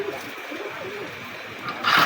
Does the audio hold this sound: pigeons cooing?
yes